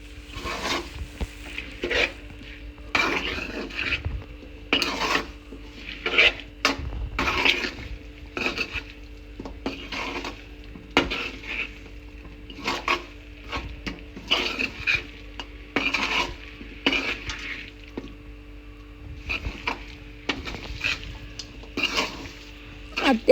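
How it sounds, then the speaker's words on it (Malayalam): Cooked beef stirred in a pan with turmeric, a spoon scraping and clinking against the metal in repeated short strokes at an uneven rhythm, close and fairly clear, with a faint background hum and no talk. "പിന്നെ നമ്മൾ വെന്ത ബീഫ് നമ്മൾ ആ പാത്രത്തിലോട്ട് ഇടുന്നുണ്ട്. എന്നിട്ട് അത് നല്ല രീതിയിൽ നമ്മൾ ഇളക്കി കൊടുക്കുന്നുണ്ട്."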